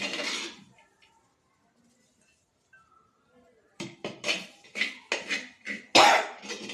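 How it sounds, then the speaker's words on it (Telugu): While bankonti curry is being cooked, pungent smoke brings on coughing: one cough, then a quiet pause, then a series of sharp coughing bursts mixed with clinks of pans and utensils. "పొగ ఘాటుకు దగ్గులాగా వస్తుంది,"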